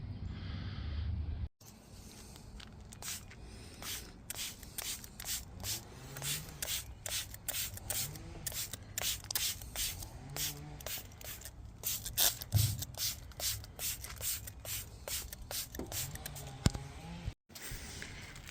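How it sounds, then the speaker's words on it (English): Cleaner from a Temu product is sprayed onto a Mustang, then scrubbed with a brush in rapid repeated close strokes that fill most of the stretch, moderately quiet, with no talk. "So I'm going to spray this on there, hit it with the brush, get it nice and hopefully clean"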